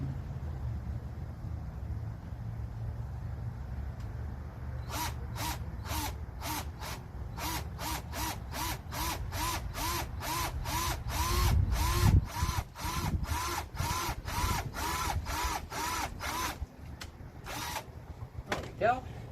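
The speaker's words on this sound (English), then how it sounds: "so I'm going to drill one hole first," A power drill bores a hole during a van rebuild, a low steady motor rumble followed by a long run of rapid, evenly spaced, loud rattling bursts, close by.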